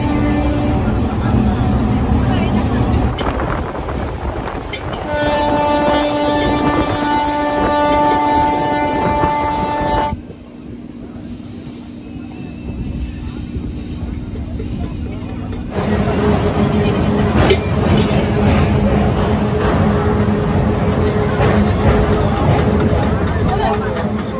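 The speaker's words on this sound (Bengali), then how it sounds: "আর ট্রেন এতক্ষণ এই দিকে আসছিল, এবার উল্টো দিকে যাচ্ছে" A local train on the route toward Digha and Mandarmani rumbles steadily along the rails, with loud wheel and carriage noise from onboard, brief tonal whines from the train, and a quieter stretch partway through before the rumble swells again.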